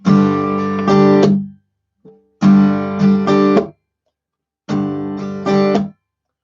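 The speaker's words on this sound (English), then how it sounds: "I'm actually thumping the guitar and kind of landing on the strings at the same time" Three bursts of acoustic guitar strumming, each with sharp percussive palm slaps against the strings in a rhythmic on-off pattern, separated by short silences.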